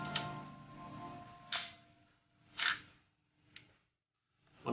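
A 35mm SLR film camera on a very slow shutter, sounding as a series of separate close mechanical clicks spaced around a second apart with faint hum between them in a quiet room.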